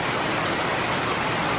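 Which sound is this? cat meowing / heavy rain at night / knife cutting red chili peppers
heavy rain at night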